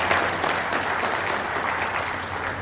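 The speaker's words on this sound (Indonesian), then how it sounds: "Tepuk tangan." Dense audience applause fills a hall at a PGRI teachers' association installation ceremony, steady and loud from start to finish with no voices on top.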